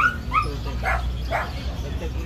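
A 14-month-old English Bulldog at a pet market gives several short, high yips and barks spaced through the moment, over a low, busy background murmur.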